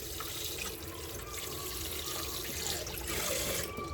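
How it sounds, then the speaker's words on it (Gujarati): Water running steadily from a tap while khichdi rice and lentils are washed in a kitchen, a constant loud splashing gush with faint drips and clinks throughout. "ખીચડી છે ને એ હું ધોઈ નાખીશ 4 થી 5 પાણીમાં."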